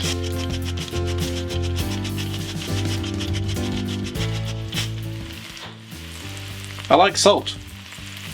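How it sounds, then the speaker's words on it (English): Mushrooms fry in hot melted butter with a steady, close sizzle that runs throughout, and a voice speaks briefly near the end. "the butter is melted and it's hot enough, so now in with the mushrooms"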